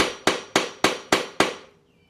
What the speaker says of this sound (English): Couple of taps with a hammer.